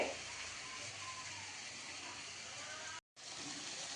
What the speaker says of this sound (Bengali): এই যে মশলা কষাচ্ছি